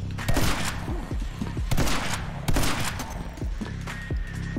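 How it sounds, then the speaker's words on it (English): Bursts of rapid gunfire from a machine gun turret in the video game My Friend Pedro, loud and close, arriving in several dense volleys with heavy thuds across the stretch. "I did not expect a fucking machine gun turret to be there"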